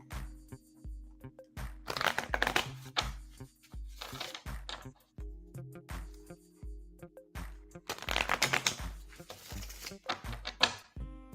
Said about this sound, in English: So Rising, I've got both decks here and I see your questions, so I'm shuffling for you now.